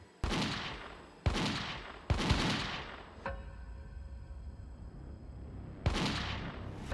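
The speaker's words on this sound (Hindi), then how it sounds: "और फायरिंग चालू।" Several sharp gunshots crack out one after another at night during a gang shooting in Punjab, with a pause before a final shot, each trailing off in a short echo.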